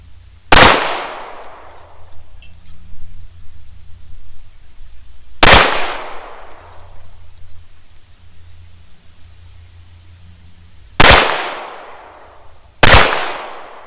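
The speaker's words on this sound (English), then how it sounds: "5 shots out of the CZ75." Five pistol shots from a CZ75 fired on a range during an accuracy test. Loud, sharp cracks come singly at widely spaced intervals, the last two closer together, each with a short ringing decay over a steady low hum.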